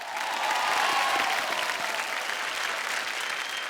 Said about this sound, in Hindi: जोरदार तालियां सारी टीम्स के लिए।